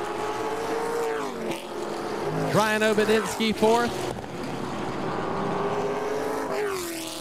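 Race cars from the Chargers class crossing the finish under the checkered flag at Southern National Motorsports Park, engines droning and rising in pitch as they pass, beneath a track announcer calling the finishing order.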